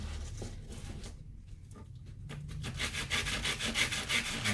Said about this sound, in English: And just lightly sand.